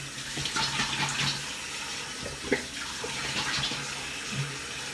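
Running water pours steadily from a tap as someone rinses off under it, a continuous close hiss and splash with small changes as hands move through the stream.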